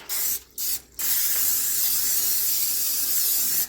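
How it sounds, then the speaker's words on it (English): Cooking spray hissing onto a sheet pan: two short bursts followed by one long continuous spray, close and clear. "Go ahead and get this one sprayed really good."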